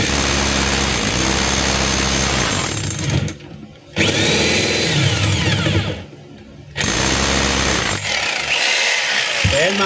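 A DeWalt D25032 rotary hammer drill runs in hammer mode with a loud, close, harsh buzzing hammering, cut off twice by short pauses before starting again.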